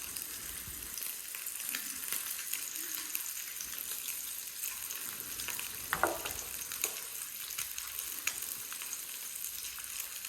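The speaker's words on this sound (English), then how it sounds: "You can tell your bacon's starting getting cooked." Bacon frying in a pan over fairly high heat gives a steady, dense sizzle that runs the whole time, with a few sharper pops and crackles partway through and no talking.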